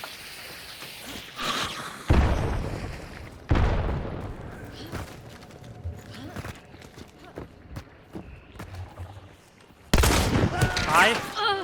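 Explosions and gunshots from a Hunt: Showdown firefight hit in sharp, loud bursts: one sudden blast, a second heavy report, scattered smaller impacts and clatter, then another loud explosion near the end.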